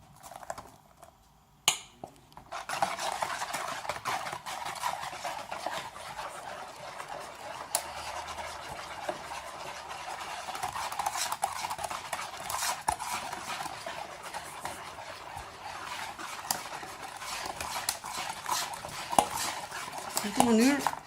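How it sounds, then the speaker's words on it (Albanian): A spoon stirs flour into blueberry and chocolate cake batter in a bowl, continuous scraping and clinking strokes close by, steady rhythm with a brief pause near the start. "Në këtë mënyrë vazhdojmë përzijmë të gjithë miellin me gjithë përbërësit."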